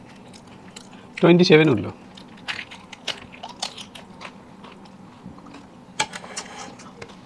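Someone taking big bites of fuchka street food, with one loud crunchy burst of biting and chewing near the start, then quieter chewing and scattered mouth sounds as people talk nearby.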